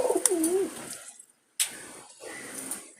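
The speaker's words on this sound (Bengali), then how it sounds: "আরও কবুতর আছে নিচে, এখানে অনেকগুলো কবুতর আছে" Jalali pigeons, including a red-bordered hen, coo in a loft. Soft, close, rolling coos and a few sharp chirps come in two bursts separated by a short silence.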